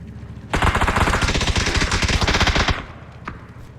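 A sustained burst of rapid automatic gunfire in PUBG, loud and close, running for about two seconds before stopping, followed by a single faint shot.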